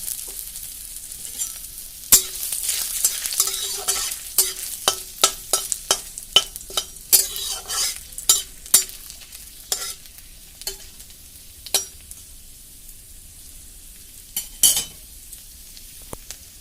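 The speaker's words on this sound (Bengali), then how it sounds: "দিয়ে দিলাম শুকনো লঙ্কা আর তেজপাতা পাঁচফোড়ন দিয়ে দিচ্ছি আদা কুচি" Dried chillies, bay leaves, panch phoron and chopped ginger sizzle in hot oil, a soft steady frying hiss broken by repeated sharp clinks and scrapes of a spatula against the pan.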